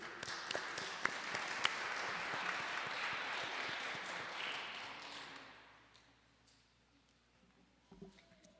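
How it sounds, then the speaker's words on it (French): Congregation applauding during a church Mass, a soft, even wash of clapping that fades to near silence after a few seconds, heard from a distance. "je pense qu'on peut les applaudir"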